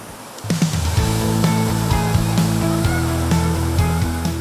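Water pours steadily into a pan of cooked spice paste for an Acehnese fish stir-fry, a continuous close splashing rush with faint clinks, no talking.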